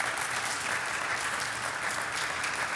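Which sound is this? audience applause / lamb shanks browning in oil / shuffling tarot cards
audience applause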